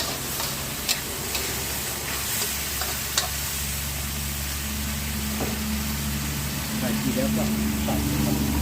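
Water splashes into a hot wok while fried pork and Chinese kale are stir-fried, giving a loud, steady sizzle with scraping stir strokes and occasional sharp clinks throughout.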